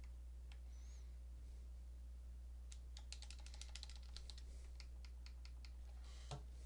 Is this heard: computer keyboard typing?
yes